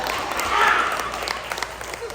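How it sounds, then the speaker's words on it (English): An audience of women at a self-love tour event clapping for themselves, a brief burst of dense applause that swells and fades under a speaker's voice. "you're giving yourself a round of applause"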